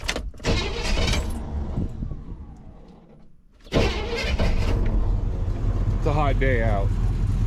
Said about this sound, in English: it's got just a nice, mean idle to it